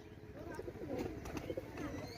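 Male pigeons cooing softly nearby, several low throaty coos over faint background voices and wing flutter.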